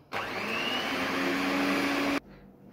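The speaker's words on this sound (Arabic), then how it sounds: "وبدي هلا اخفقهم بالميكسر" An electric mixer whirs at a constant pitch for about two seconds, whisking eggs for crêpe batter, starting and stopping abruptly and loud and close with no talk.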